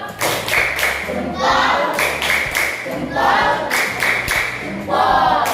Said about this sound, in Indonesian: kita kasih tepuk jempol untuk kelompok berkarakter. Tepuk jempol.